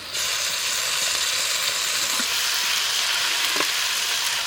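Onions, chillies, curry leaves and tomato fry in oil in a pan, giving a steady, close sizzle that holds evenly throughout with a couple of faint stirring knocks.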